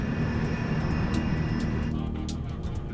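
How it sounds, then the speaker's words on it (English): Steady jet engine drone from a United States Air Force cargo plane on its landing approach, a constant broad roar that eases slightly toward the end, with no voices. "a United States Air Force cargo plane is coming in for a landing"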